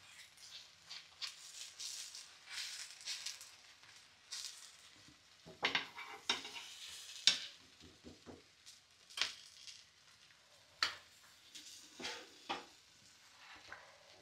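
Spinach uttapam fries with butter in a pan, with soft sizzling under scattered stirring, scraping and utensil rattles as it is spread and turned.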